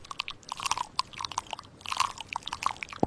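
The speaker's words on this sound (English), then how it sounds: "I am crunching an apple." A person crunches an apple, giving crisp, close biting and chewing crunches in an irregular run. The crunches are fairly quiet and end with one sharp bite.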